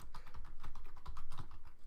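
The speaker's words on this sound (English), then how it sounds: "Let me finish typing this and I'll spit this all out at the same time." Rapid, steady typing on a computer keyboard, close and clear, with a dense run of key clicks and no talking.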